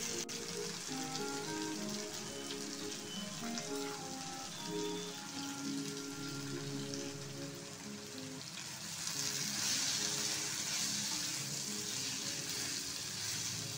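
Okra and gram flour sizzling uncovered in a pan, a steady close frying crackle and hiss that continues throughout and grows slightly brighter toward the end.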